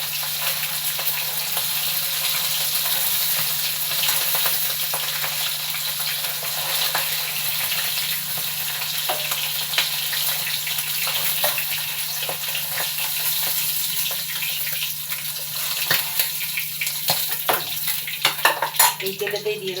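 Tangra fish fry in hot oil, a dense continuous sizzling crackle held close for the whole stretch, with scattered clinks and scrapes of a utensil toward the end, no voices.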